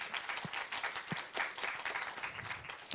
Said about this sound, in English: just a round of applause to just thank you for coming and joining us today.